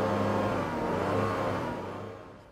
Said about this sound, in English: So what do you think about the exhaust note of this racer version?